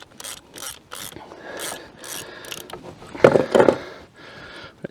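A ratchet wrench clicks in short bursts while a spark plug is worked out of the corroded alloy head of a scrapyard Ford Falcon engine, with rhythmic pawl clatter and a couple of louder grinding turns near the end.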